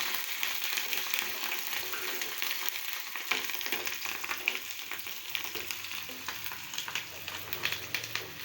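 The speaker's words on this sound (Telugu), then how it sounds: "కరివేపాకు, బాగా ఫ్రై అవనిద్దామండి." Curry leaves frying hard in hot oil for a fish curry, a continuous bright sizzle and crackle heard close up with faint stirring, and no talking.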